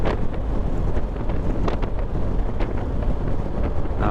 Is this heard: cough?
no